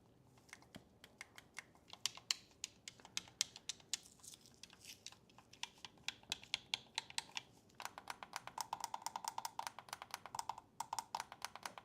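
Buttons and triggers on a repaired game controller clicked over and over, sharp plastic clicks in irregular bursts that speed into rapid, steady runs near the end, close and fairly quiet with no talk.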